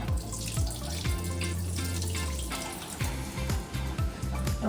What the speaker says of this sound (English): And you can just pour it out.